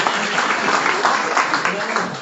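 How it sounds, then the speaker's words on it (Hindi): An audience at a motivational speech event claps together in dense, continuous applause, steady and fairly loud throughout. "ताली बजाओ अपने लिए जिसको लग रहा है नहीं है"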